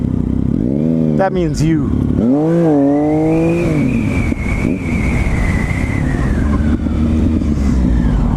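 A motorcycle engine while riding through traffic, with rising and falling revs climbing through the gears, then a steady, loud road rumble. Someone speaks briefly over it.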